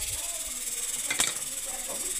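Oil sizzles in a wok as a steady soft hiss, with a sharp brief burst of crackling spitting midway before settling back to a faint continuous sizzle.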